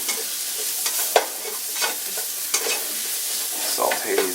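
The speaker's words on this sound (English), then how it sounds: "Saute these mushrooms." Mushrooms sauté in a hot pan with a constant close sizzle, broken by a few sharp scrapes and clacks as they are stirred.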